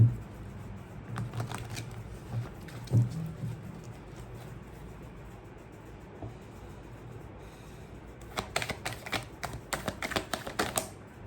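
Tarot cards being shuffled for a reading, heard as soft, quick riffling and clicking, with a faint patter early on and a denser run of crisp card snaps near the end, close and quiet.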